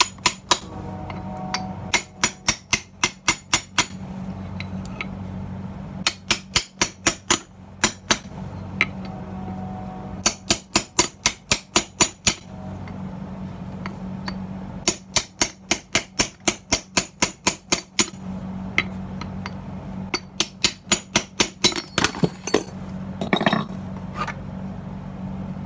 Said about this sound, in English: So I've been working at it with a nice little wedge, and hammer